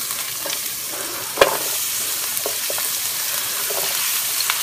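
Chopped onion fries in oil in a pan, a continuous close sizzle with scattered stirring clicks and one sharp knock.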